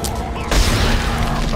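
Gunfire in the sci-fi horror video game Dead Space: a loud, booming shot followed by a sustained rumbling roar. A voice is also present.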